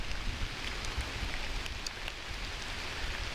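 Steady rain patters on a rain overcoat during a hike at Forestville Mystery Cave State Park in Preston, Minnesota, a dense, even hiss of drops close to the ear with no voices.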